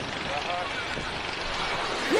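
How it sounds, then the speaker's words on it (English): A low-flying airplane passes overhead, a loud continuous roar with a rising engine tone near the end, under a brief voice. "Why is the airplane that low?"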